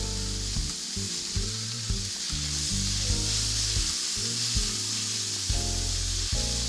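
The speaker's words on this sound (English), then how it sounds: "Now I'm gonna render this bacon down and get it nice and crispy." Bacon renders in its fat in a pan for pasta carbonara, giving a strong, steady sizzle close up with faint stirring sounds and no voices.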